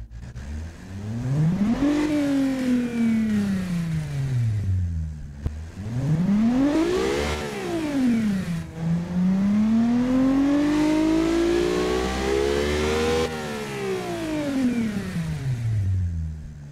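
Simulated transverse car engine on a test bench in the Automation car company tycoon game, revving up and down in several long, smooth sweeps, loud and continuous with no talk.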